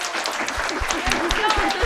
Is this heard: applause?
yes